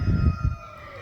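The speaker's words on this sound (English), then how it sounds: "Look at the chicken." A backyard chicken gives a short, close pair of low clucks that lasts well under a second, then a faint hum fills the rest.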